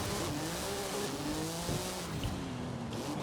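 A car in Forza Horizon 5 launching into a wheelie after a sharp clutch pop: a revving engine that climbs through gear changes, with tire squeal and skidding noise and no talk.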